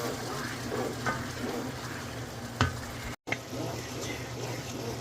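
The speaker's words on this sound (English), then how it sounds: "just keep stirring, just keep stirring" A spoon stirs creamy bacon parmesan risotto with Pinot Grigio in a pan, giving soft, continuous scraping and gentle sizzling with a few sharper knocks, at a fairly low level.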